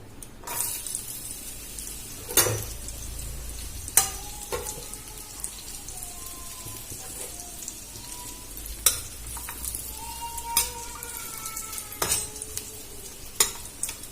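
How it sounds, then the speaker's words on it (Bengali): Cashews and raisins fry in hot oil over a low flame for basanti pulao, a gentle, even sizzle broken by occasional sharp clinks and taps of a spatula against the pan, heard up close. "আমি এর মধ্যে কাজুটা দিয়ে ভেজে নেব, কাজু আর কিশমিশটা ভেজে নেব"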